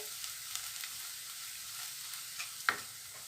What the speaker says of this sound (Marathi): ह्याला आपण कांद्याबरोबर देखील चांगलं फ्राय करणार आहे